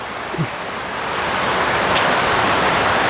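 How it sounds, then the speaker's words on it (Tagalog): Heavy rain pours down in a dense, constant roar, steady and loud throughout with no talking. "biglang bumuhos ang malakas na ulan"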